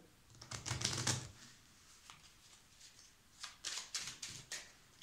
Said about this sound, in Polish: Karty są przekładane.